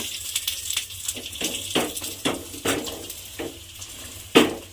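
A mint paratha fries in a pan with a little oil, giving a soft sizzle broken by repeated utensil taps and pressing clatters, one sharper clank near the end.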